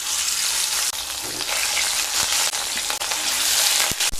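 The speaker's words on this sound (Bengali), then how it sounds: "তেল গরম হয়ে গেলে মাছগুলো ভেজে নেব।" Fish fries in hot mustard oil in a kadai, a loud, continuous close-up sizzle with occasional soft clinks and pops, with no one speaking.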